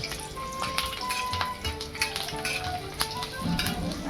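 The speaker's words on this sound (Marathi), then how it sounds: "आता हे लसणाच्या पाकळ्या आपण तळून घेणार आहे" Garlic cloves fry in hot oil in a pan while bangda fish fry is prepared. A steady close crackle and sizzle with small popping bursts runs throughout, loud and with no voices.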